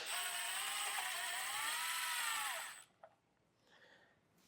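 A power driver with a Torx bit backs screws out of the tail light on a 2024 Jeep Grand Cherokee, a steady high whir for about three seconds that stops, followed by faint clicks and handling noise.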